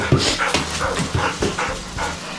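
A Vizsla puppy whimpers in a series of high, thin whines and yips, close and fairly loud, repeating every half second or so while exploring an unfamiliar space.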